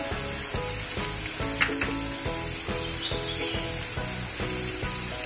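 Turmeric sautéing in hot oil for palak paneer, giving a steady close sizzle with rhythmic stirring scrapes against the pan, no talking.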